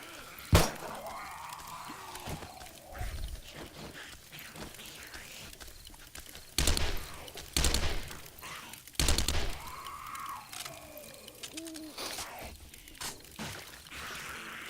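Gunfire during a zombie horde fight in the survival game 7 Days to Die, with several loud bursts of shots spread through the stretch and talk running over them.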